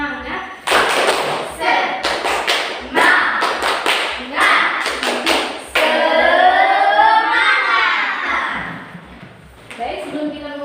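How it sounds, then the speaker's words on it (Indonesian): A classroom of children does a rhythmic spirit clap together, bursts of sharp group hand claps in patterned sets, with a teacher's voice and children talking between and over them. "motivasi kali ini kita akan sama-sama untuk tepuk semangat ya"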